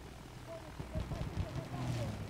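A propeller airplane flies past in the Battlefield 1 battlefield, a low droning engine held steady at a moderate distance under muffled game noise and faint voices.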